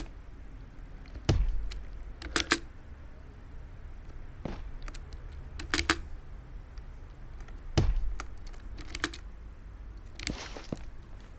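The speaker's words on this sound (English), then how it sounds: "But you have to click space twice while turning." A keyboard space bar is pressed while playing Roblox parkour, producing scattered soft taps and clicks, some single and some doubled in quick pairs, close and fairly quiet over faint background hiss.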